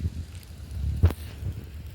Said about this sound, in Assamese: কেনেকুৱা বতাহ চলি আছে পুৰা বতাহ চলিছে